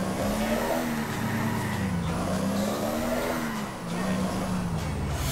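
A car in GTA IV accelerates hard through a run of curves, its engine droning loudly and continuously with rising and falling revs, close and steady throughout.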